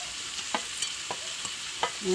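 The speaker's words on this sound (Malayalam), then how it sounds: "പച്ചമുളകും വേപ്പിൻ്റെ ഇലയും തക്കാളിയും കൂടി ഇടുന്നു." Onions, green chilli, curry leaves and tomato fry in a pan with a steady sizzle, broken by a few sharp spoon scrapes as the mixture is stirred, close and alone.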